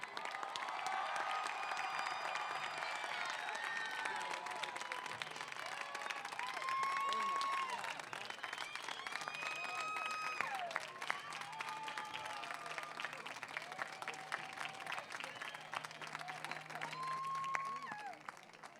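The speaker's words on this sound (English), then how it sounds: "And how about a big round of applause for our class of 2023?" Sustained applause for the graduating class of 2023 at a Diman commencement ceremony, a long steady wash of clapping from a large crowd with voices and occasional calls mixed in, heard at a distance.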